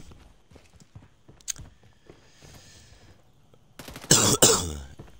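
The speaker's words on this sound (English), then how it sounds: "if you guys hear coughing, I do apologize" One person clears their throat and coughs in a sudden loud burst near the end, after a stretch of quiet background noise and faint soft taps.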